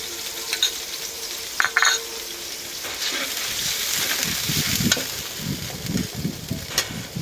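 Cardamom, cinnamon and cumin paste fries in a pan with a steady sizzle, joined by irregular spoon-stirring clatter and scraping, and a faint voice in the background.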